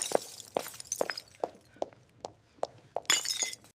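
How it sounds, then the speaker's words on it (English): Glass thrown against a wall shatters: a run of sharp, evenly spaced clinks and tinkles, then a bright, louder crash of breaking shards near the end. "It hit the wall, exploding into a spray of glittering shards that fell at his feet like broken stars."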